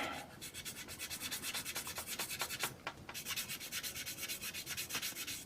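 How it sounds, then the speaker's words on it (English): Rapid, rhythmic back-and-forth rubbing of sandpaper on a plastic model kit part, close and steady, with no talking. "I'm actually sanding the whole thing"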